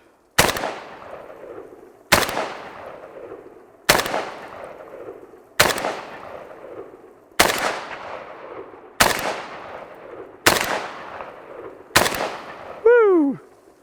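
Eight loud single gunshots from a Century Arms N-PAP AK rifle, fired at a steady pace roughly every one and a half seconds, each with a sharp crack and a trailing echo, fired outdoors with no talk.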